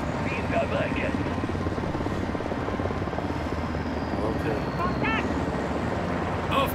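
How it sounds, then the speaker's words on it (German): A helicopter in Call of Duty: Modern Warfare II: steady rotor thrum and engine roar fill the scene continuously, loud and close, with faint voices buried underneath. "blockier sie mit dem Heli"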